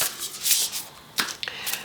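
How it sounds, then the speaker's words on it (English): A large oracle card deck is shuffled by hand, with a few brisk papery riffles and flutters close by, with no talking. "Now, let's have a look at shuffling and the size of the cards."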